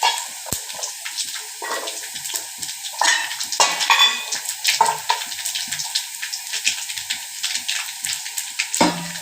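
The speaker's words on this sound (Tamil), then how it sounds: "கடுகு, உளுத்தம்பருப்பு, சின்ன ஜீரகம், காஞ்ச மிளகாய் போட்டுக்கோங்க." Mustard seeds, urad dal, cumin and dried chillies sizzling in hot oil, with bright crackling pops and bursts of spattering over a steady frying hiss, stirred now and then, close and lively.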